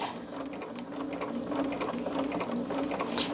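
Sewing machine stitching fabric slowly while the presser foot guides along the edge, a steady soft mechanical whirring and clicking at close range, running continuously without talk.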